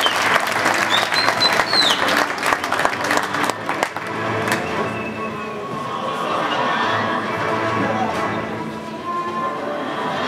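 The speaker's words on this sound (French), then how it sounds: "On peut applaudir cette démonstration de petits points." An audience at a multi-boxing gala in Millau applauds a youth boxing demonstration: loud, crisp clapping for about four seconds, then softening into a lower wash of clapping and crowd chatter.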